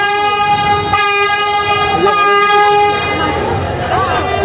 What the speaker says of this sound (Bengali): এই যে দেখেন এই যে লঞ্চ টার্মিনাল ত্যাগ করতেছে।